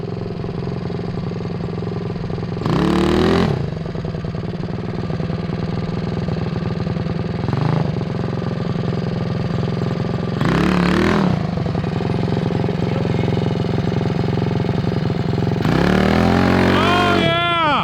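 A finished 4WD Power Wheels Bronco go-kart build drives over bumps. Its engine holds a steady mid-pitched drone, broken by several loud revving surges as it bounces along nearby.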